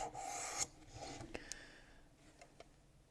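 A knife blade drawn over a 600 grit stone on a WorkSharp Precision Adjust sharpener gives a few soft rasping strokes, the first one clearest and the rest fading to faint, quiet ticks.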